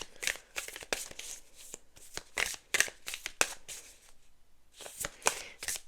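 Tarot cards are shuffled by hand in quick crisp riffling bursts, a rapid irregular run of papery flicks and snaps close up with short pauses between.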